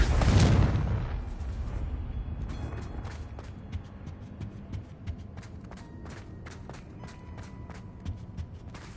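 The Confringo explosive spell in Hogwarts Legacy sets off a loud booming blast at the start. It fades into a long rumbling tail, then light clicks and small impacts follow.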